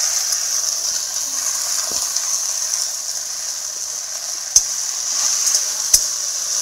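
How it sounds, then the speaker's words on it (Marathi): Okra frying in a pan with chillies and garlic, a steady hiss of sizzling oil with occasional sharp clicks and scrapes as the pieces are stirred, close and continuous. "याच्यामध्ये लगेच भेंडी टाकून द्यायची।"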